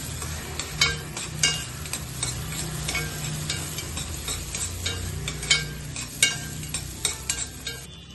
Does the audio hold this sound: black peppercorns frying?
yes